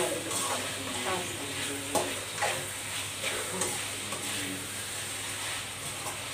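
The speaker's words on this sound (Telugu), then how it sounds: "ఇలా హై ఫ్లేమ్లోనే కలిపేసుకుంటే సరిపోతుంది." Chicken fry stirring in a pan over a high flame, with constant sizzling and frying hiss broken by repeated scraping stirs, close and steady throughout.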